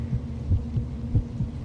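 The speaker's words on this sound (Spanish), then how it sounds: "el latido crecía cada vez más fuerte, más fuerte" A heartbeat sound effect in a Spanish-language audiobook of Poe's tale, made of low, muffled, evenly spaced thumps over a steady low hum, with no narration over it.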